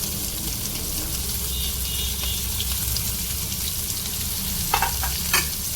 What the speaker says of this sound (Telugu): వీటిని ఫ్రై చేస్తున్నాం మంచి కలర్స్లో ఫ్రై చేస్తాం ఆనియన్ అయితే వేగిపోయింది కదా